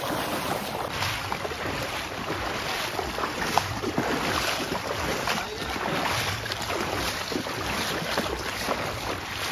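A river runs swollen during heavy rain, a dense, constant rushing of water with a noisy wash and no clear speech over it.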